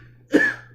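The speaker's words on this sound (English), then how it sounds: "Okay, that's a real cough now." A single short, sharp cough close to the microphone, over a quiet background hum.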